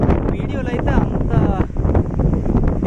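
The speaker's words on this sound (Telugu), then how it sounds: "గాలి అయితే విపరీతంగా వీస్తుంది." Strong wind blows across a silver oak plantation field, buffeting the microphone in rough gusts while someone talks over it.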